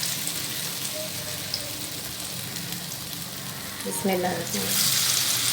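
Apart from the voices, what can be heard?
frying batter-dipped potato and eggplant slices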